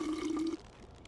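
Short pour of water being collected in We Happy Few, a brief steady liquid tone lasting about half a second and then fading to quiet.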